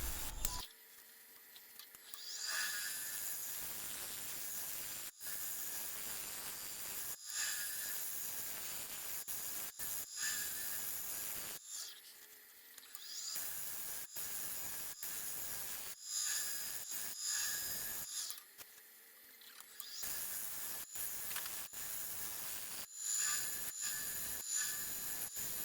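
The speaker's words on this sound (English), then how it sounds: "I'm using my Dremel just to remove some of the loose bits in this crack" A Dremel rotary tool cleans loose bits from a crack in spalted sugar maple. It whines and grinds in repeated bursts of a few seconds each, separated by brief pauses, with a high buzzing tone and no talking.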